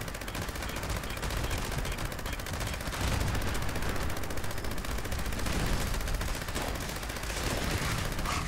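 A Gauss minigun fires nonstop in the video game Fallout 76, a dense, rapid rattle of shots blended with a steady roar of explosions, loud and close throughout without pause.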